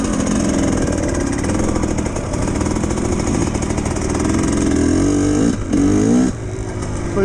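A GPX TSE 300 motorcycle engine runs loud and steady close by during a test ride, droning continuously with a brief dip in revs near the end before picking back up.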